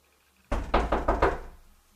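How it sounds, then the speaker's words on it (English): A small boy knocks on a bedroom door, four quick firm raps in a close, even burst, leaving a short dull resonance before quiet. "one excited little boy who's ready to knock on the door"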